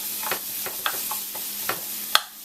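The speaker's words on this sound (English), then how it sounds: "I'm just sauteing these mushrooms on a little bit of oil" Mushrooms sautéing in a little oil give a soft, steady sizzle, broken by several light scrapes and taps of a utensil stirring in the pan and a sharper clink near the end, with no talking.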